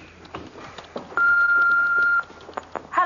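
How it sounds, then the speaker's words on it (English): An answering machine gives a single steady electronic beep lasting about a second before a message plays, heard up close over faint room noise, with no one speaking. "I'll just play that answer phone message from Rachel again"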